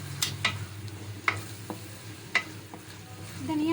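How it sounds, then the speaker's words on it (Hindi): A spoon stirs coriander into pumpkin curry in a pan, giving a few light scrapes and taps over a soft, steady sizzle. No one talks. "धनिया शामिल करते हैं और इसको अच्छे तरीके से मिक्स कर लेते हैं।"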